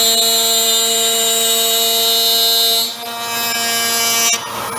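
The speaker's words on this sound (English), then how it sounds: "I'll probably just route a little bit in some scrap wood first" A wood router cuts into scrap wood with a loud, steady high-pitched whine that shifts slightly in tone partway through, then eases near the end.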